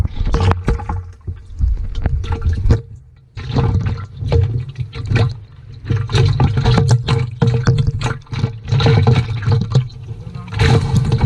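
Water splashes and pours steadily as it drains from a bottle fish trap, with sloshing bursts and brief pauses, loud and close.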